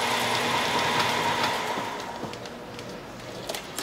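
An automotive wiring harness taping machine, worked by a foot pedal, runs with a steady mechanical whir and rattle, close and fairly loud, then slows and quiets after a couple of seconds.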